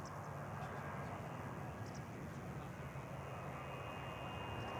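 A Helvetic airliner takes off at Manchester Airport, its engines producing a steady broad roar heard from a distance, faint and continuous with no talk over it.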